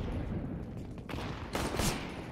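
Gunfire in Counter-Strike: rapid rattling bursts of shots with a couple of sharp, louder volleys near the end, dense and continuous over the short span.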